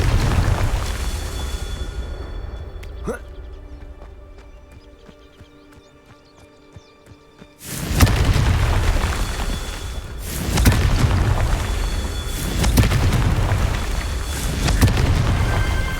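A Confringo fire spell explodes in Hogwarts Legacy, a sudden loud blast that cuts in abruptly midway and then rumbles and booms again in repeated heavy bursts.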